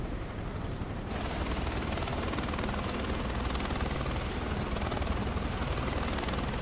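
Helicopter flight in Microsoft Flight Simulator 2024 over the Whistler ski area: a steady, loud rotor and turbine drone that fills the whole stretch, with a brighter hiss setting in after the first second and no talking.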